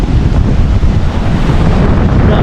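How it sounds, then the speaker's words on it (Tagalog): Heavy surf roars continuously with strong wind buffeting the microphone, a loud, dense wash of crashing water and no voices. "Kahit ang lakas na ng alon"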